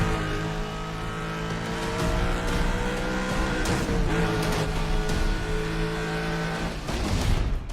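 Stolen Audi Q7 in Need for Speed The Run, a steady, loud game engine drone with bursts of tire squeal and skidding as the car swerves, no talking over it.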